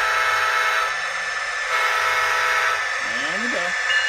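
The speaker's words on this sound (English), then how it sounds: "Here's the horn." A model train locomotive horn sounds continuously for several seconds, sustained and buzzy, loud and close, with a slight wavering tone near the end.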